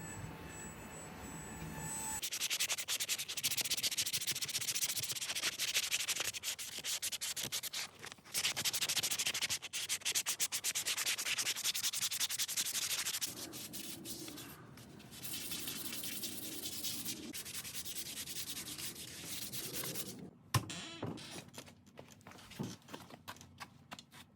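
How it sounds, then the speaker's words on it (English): Power sanders work over a maple wood walking stick carved as a wizard staff, giving a long, rough, continuous grinding rasp that shifts in tone as the sander changes, with brief pauses and a few knocks near the end. "More sanding, more sanding, more sanding. Using every type of sander that I have"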